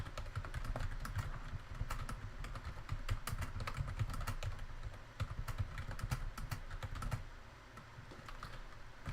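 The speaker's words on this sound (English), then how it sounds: "just typing" Fingers type on a computer keyboard, producing a steady run of quick, irregular clicks and clacks close by, with no voices.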